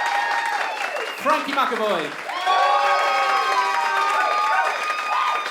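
Theatre audience at a musical theatre show claps and cheers loudly while a host's voice rises over the noise, the crowd sound swelling and holding steady.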